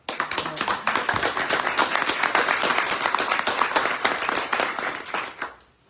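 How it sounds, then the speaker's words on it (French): A meeting audience applauds during a president's report, with loud, close clapping that builds quickly and stays dense for about five seconds before dying away abruptly into quiet. "C'est bien les applaudissements, ça"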